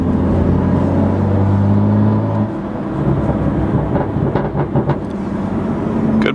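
A BMW engine runs loudly and steadily with its exhaust valves open, a deep droning note that drops slightly partway through and carries on alone without talk.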